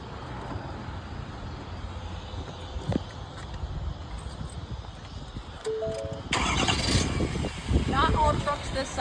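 A truck engine runs steadily in reverse at low revs, with mechanical clunks and a brief squeal, then grows louder and rougher toward the end; people talk nearby.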